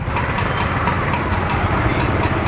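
A TVS Raider motorcycle engine idles steadily nearby, a low continuous rumble with a faint knocking pulse and no other sounds.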